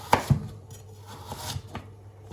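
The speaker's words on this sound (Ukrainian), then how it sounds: "ось так поріжу. Ось такими полосочками морку." A knife chops carrot into thin strips on a board while a pumpkin cream soup is prepared, giving a few sharp, close knocks early on, then softer scattered cuts with quiet kitchen noise between.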